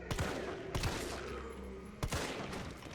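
A few sharp handgun shots in the Resident Evil 3 Remake video game, widely spaced and moderately loud over a low game background.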